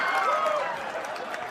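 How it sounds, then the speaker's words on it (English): A stand-up comedy audience claps and cheers in a steady wash of applause that runs throughout, with a voice carrying over the crowd noise early on. "I can't believe you clapped about that."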